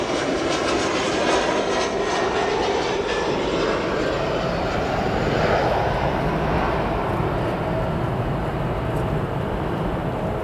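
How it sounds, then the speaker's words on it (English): A SkyWest or Republic Airways Embraer 175 regional jet landing at O'Hare, its engines a steady, loud, broadband roar that holds evenly through the whole stretch, with no talking. "Little firm on that landing there. It was just out of view. SkyWest or Republic Airways Embraer 175."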